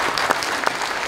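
Church audience at a Korean Liberation Day prayer service breaking into applause, a dense, steady clatter of many hands clapping close by, brief and loud.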